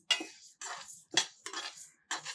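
Semolina being roasted in a pan, stirred with a metal spoon that scrapes and clinks against the pan in five distinct strokes, close and fairly quiet with short pauses between.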